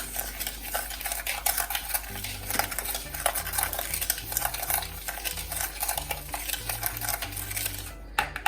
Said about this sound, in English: Stir this.